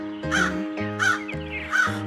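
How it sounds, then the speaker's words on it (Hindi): A cartoon crow caws three times in a steady rhythm, loud and close, in a children's fox-and-crow story, with no speech over the calls. "कालिया कौवा खाने की तलाश में इधर उधर उड़ रहा था।"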